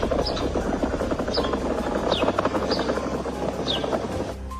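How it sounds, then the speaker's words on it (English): Low rumbling groan from the ground at Yellowstone, a steady throbbing drone with a helicopter-like pulsing texture, loud and continuous with faint higher squeaks recurring over it. "clips around Yellowstone of the ground literally groaning"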